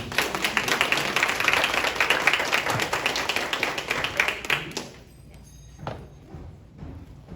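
A small gathering at a pallet business meeting claps for a presenter, brisk close applause that stops abruptly partway through, leaving a quiet room with a couple of stray taps.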